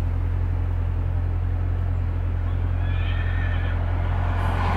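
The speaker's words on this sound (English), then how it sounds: "This horse is going wild over there." A horse neighs somewhere off at a distance, faint calls rising over a steady low hum of nearby background noise, with no talking.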